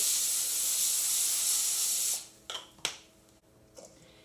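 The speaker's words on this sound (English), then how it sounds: "And then I'm going to spray it with some nonstick spray." A steady aerosol spray hisses for about two seconds, then stops, followed by a few light clicks and taps.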